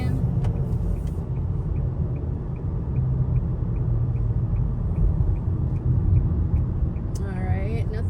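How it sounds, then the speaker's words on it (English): A car drives slowly toward a home entrance in Jamaica, with a steady low engine and road rumble throughout. A faint regular ticking, like a turn signal, runs through it, with a rising whine near the end. "We're driving."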